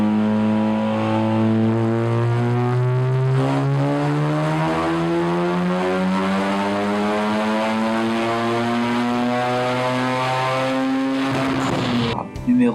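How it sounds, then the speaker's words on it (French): Mazda RX-7 Wankel rotary engine running, a loud, steady, buzzing drone whose pitch climbs slowly for about twelve seconds before cutting off abruptly. "Et le son produit par ce type de moteur est tout simplement incomparable."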